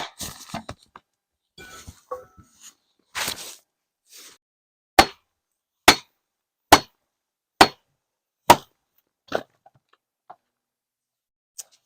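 An 8-pound sledgehammer pounds a kindling cracker to split a whole firewood round: after some scattered knocks, six or seven sharp, loud metallic strikes land at an even pace about a second apart, then fade to a couple of light taps.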